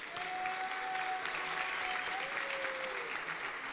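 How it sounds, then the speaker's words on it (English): Audience at a startup competition event in Berlin breaks into sustained, dense applause, steady and loud throughout, with a faint tonal whistle or feedback line drifting above the clapping. "can we have one big round of applause for all of the startups?"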